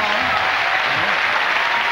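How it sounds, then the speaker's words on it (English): A TV studio audience applauds loudly and continuously, a dense wash of clapping that fills the whole short stretch. "let's have a nice round of applause"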